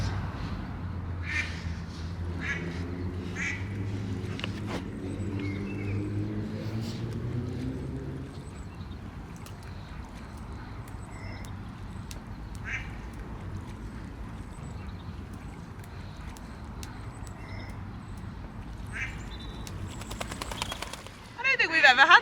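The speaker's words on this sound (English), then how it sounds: "Got a duck on his roof." A duck quacks in scattered short calls from the roof of a canal narrowboat, close by, over a steady low engine rumble that eases off after the first few seconds, with faint voices in the background.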